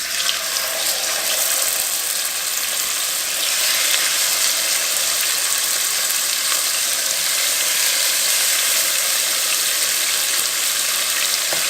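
Chicken sears in a pan of olive oil and blended oil, a loud, steady, hissing sizzle that runs continuously up close without any talking.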